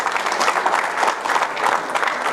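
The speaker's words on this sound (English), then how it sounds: "So give yourselves a round of applause" Audience at a synagogue talk applauding together, a steady, dense wash of clapping hands that holds at full strength for a couple of seconds with no one speaking.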